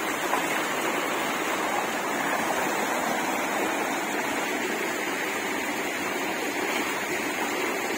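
Stream water flows continuously over small waterfalls in a wild outdoor spot, a steady, even rushing wash with no pauses and no voices.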